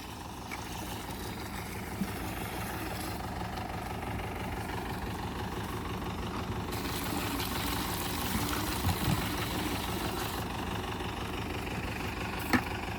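A diesel tractor engine idles steadily with a low, continuous rumbling throb, close and unbroken for the whole stretch, with no talking.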